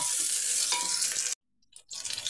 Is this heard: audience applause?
no